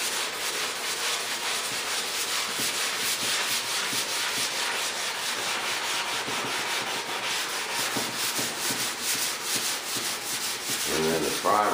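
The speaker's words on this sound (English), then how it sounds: "So now I'm taking my block down to this corner. And that's got fresh sandpaper on it." Sanding block with fresh sandpaper rubbed over a jet's surface during paint prep, a steady, close rhythmic scratching of repeated strokes that ends with a brief knock.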